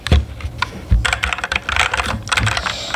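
Keys pressed on a K612 computer keyboard, giving a quick run of close, crisp clicks in an uneven typing rhythm, heard alone without talk.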